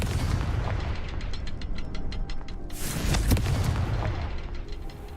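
Confringo fire spell in Hogwarts Legacy video game, a rapid burst of sharp crackling blasts followed by a louder booming explosion with a ringing tail, no talking over it.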